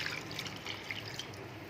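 Tamarind water is poured into a cooking pot, a soft, close trickle and splash with faint drips, running steadily and quietly with no talk over it.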